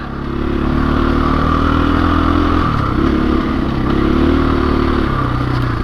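A 2021 KTM 500 EXC-F dirt bike ridden off-road, its single-cylinder engine droning loud and close, revving up and down with shifts in pitch over rough terrain.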